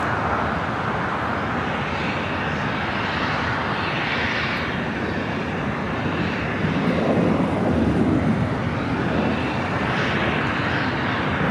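A jet airliner's engines roar steadily at Los Angeles LAX airport, a broad, fairly distant rumble that swells slightly toward the end, with no voices over it.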